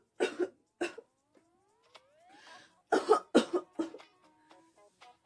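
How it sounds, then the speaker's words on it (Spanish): A child's coughing in bursts: two single coughs, then a cluster of harsher coughs, with brief squeaky vocal sounds and quiet gaps between them. "Y empezó a toser."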